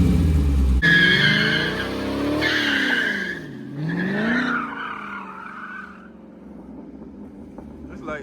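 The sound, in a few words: Dodge Hellcat Redeye car sliding, tires skidding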